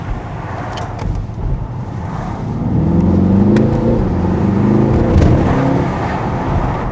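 A Mercedes-AMG GT63 S, just repaired after a fault, drives at about 30 mph with a steady, fairly subdued engine drone that swells slightly mid-way, heard from inside the car with no talking.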